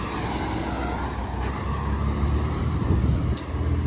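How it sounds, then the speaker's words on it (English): A city bus rumbles alongside on a street, its engine drone swelling gradually over steady traffic noise, with a brief hiss of air brakes, close and continuous. "We got the bus next to us."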